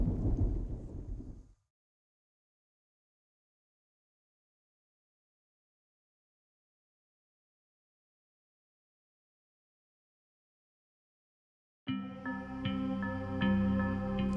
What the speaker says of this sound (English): Initially, I thought it was thunder, but then the bottom piece of that glacier just came gushing down.